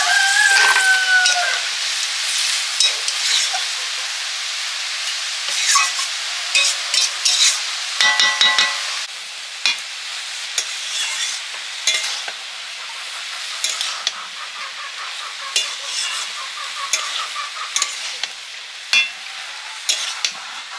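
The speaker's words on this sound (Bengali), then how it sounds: "এবার নাড়াচাড়া করে জল দিয়ে দেবো" Curry cooking in a pan is stirred with scrapes and clacks over a steady sizzle, and water is added near the start, bringing a brief hiss and bubbling before the frying settles into a quieter simmer.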